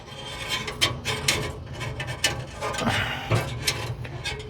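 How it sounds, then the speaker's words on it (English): Wire is pushed down the metal auger tube of an Oklahoma Joe's Rider DLX pellet grill, making close, irregular scraping, rasping and ratcheting scratches in short bursts. "what I'm going to do is try and feed it down the auger tube."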